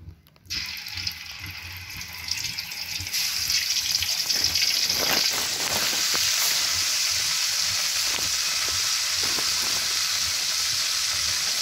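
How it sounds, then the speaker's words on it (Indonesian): Oil sizzles and crackles steadily in a pan as shrimp fry, after a brief quiet start, with bursts of popping and spattering continuing throughout. "selanjutnya goreng udangnya"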